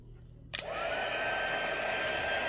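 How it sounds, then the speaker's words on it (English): A heat embossing gun set on high switches on with a sharp click and then blows hot air in a steady, even whoosh. The whoosh is close, fairly quiet and unbroken, with no one talking. "And I'm going to turn on my heat embossing gun."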